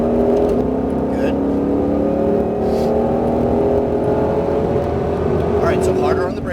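A Ford Mustang Shelby GT500 drives on a Las Vegas race track with a loud, steady engine drone and whirring from inside the cabin, held throughout and close, with an instructor speaking over it.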